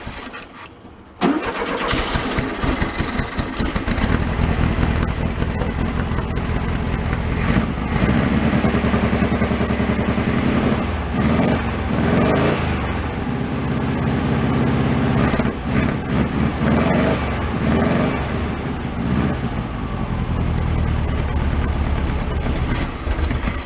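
A 1968 VW Beetle barn find with engine and brake problems, choke off and fuel poured down the carburetor, cranks briefly and catches. It then settles into a loud, steady, close idle that runs uninterrupted.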